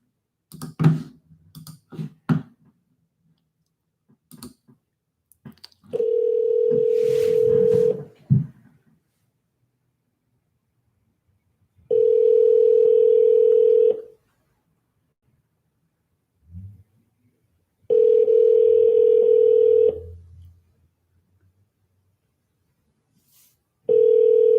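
An outgoing cell phone call rings back with long steady tones, three to four evenly spaced rings separated by silence, preceded by taps and clicks of dialing.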